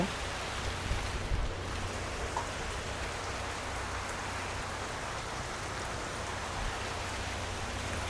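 Light rain falling around a countryside bamboo hut, a steady, even hiss of drops that holds at moderate volume throughout with no talking.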